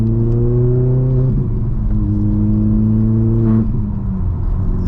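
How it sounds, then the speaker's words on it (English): A VW MK4 GTI with a Eurocustoms Stage 2 tune revs its turbo engine up close. The loud drone climbs in pitch, drops back, then climbs again in repeated pulls, with a rising whir near the end. "the turbo noises are a little bit louder"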